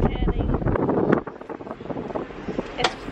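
Gusty wind buffets the microphone on the open deck of a Carnival cruise ship at sea, a loud low rumble that swells and drops, with people talking faintly underneath.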